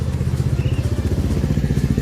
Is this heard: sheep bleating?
no